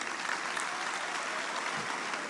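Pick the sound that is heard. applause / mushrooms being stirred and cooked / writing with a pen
applause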